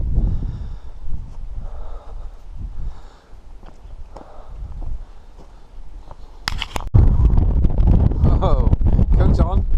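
Wind gusts buffet the microphone on the hilltop at St Agnes Beacon, soft at first under a speaking voice and a snort, then a sudden loud burst of roaring blow near the end as someone speaks over it.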